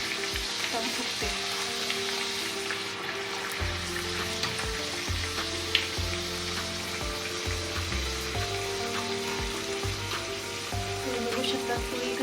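Puri dough frying in hot oil gives a continuous bubbling sizzle with occasional stirring and spoon clinks, close and steady throughout.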